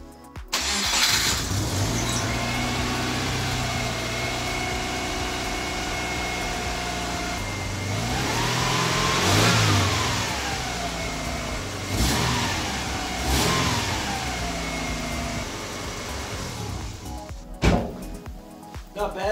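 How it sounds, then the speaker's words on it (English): A Subaru engine with a freshly repaired exhaust and topped-up oil idles, then revs and settles in a couple of swells, running fairly smooth and steady at close range with a clunk near the end. "engine's nice and quiet with that oil"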